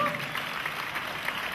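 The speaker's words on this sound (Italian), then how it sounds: "facciamo un applauso a loro" Applause from an outdoor concert audience in Piazza Santa Maria Maggiore in Alatri, a steady wash of clapping at moderate level running through the whole short stretch, with no pause or break.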